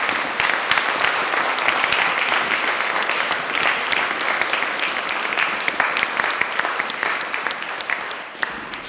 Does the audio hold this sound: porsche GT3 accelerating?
no